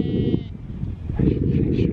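Sheep bleat in a farm setting that also holds horses, a wavering voiced call rising over a steady low rumble and talk-like murmur across two seconds.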